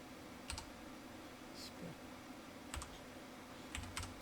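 Quiet computer keyboard typing and mouse clicks, a handful of sparse, crisp taps spaced irregularly over a low steady background hum.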